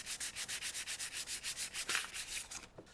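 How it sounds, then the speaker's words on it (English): Sandpaper worked over transfer paper on a wood photo transfer in a garage gives rapid, even back-and-forth rasping strokes, close and loud, about five per second, then slows and stops, with no talk. "it's fine enough that I won't sand too much of this off"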